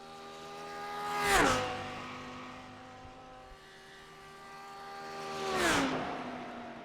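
Two race cars roar past one after the other on the Nürburgring circuit, each engine swelling as it approaches and dropping in pitch as it passes, with a quieter stretch of distant engine hum between them.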